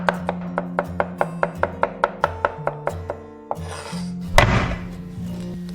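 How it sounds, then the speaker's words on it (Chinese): A knife chops garlic into mince on a cutting board with a quick, even run of about a dozen sharp taps. A brief scrape and clatter follow as the pieces are gathered. "然后切成蒜末"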